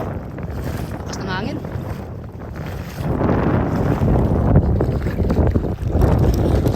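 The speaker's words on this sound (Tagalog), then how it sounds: "Magalaw yung tubig kasi mahangin" Steady wind buffets the microphone over choppy water during crabbing, a rough continuous roar that swells midway, with a boat engine faintly beneath.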